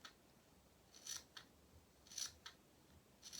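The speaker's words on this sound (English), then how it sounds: "you're going to use snips or scissors, and you're going to make little cuts up to but not through your stitch line" Fabric scissors snip into a head wrap seam allowance up to the stitch line, making several short, crisp cuts in an irregular rhythm, close and quiet against a faint background.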